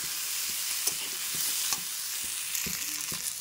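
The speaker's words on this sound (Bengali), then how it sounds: "ভালো করে কষিয়ে নিচ্ছি" Chickpea and potato curry sautéing in a pan, a continuous close sizzle broken by frequent scraping and tapping stirs of a spoon, no voices.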